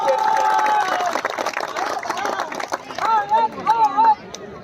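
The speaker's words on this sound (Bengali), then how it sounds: "আয়াতের জন্য জোরে হাততালি" Spectators clap and cheer for a prize winner at a village cricket trophy final, a crowd burst mixed with chatter and a voice over a microphone, fading in and out.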